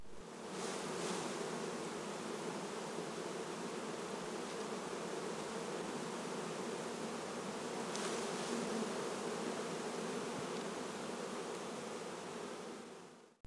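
Honeybees buzz in a dense, continuous drone around an open multi-box Langstroth-Root hive as frames are worked, steady and close with faint rustling.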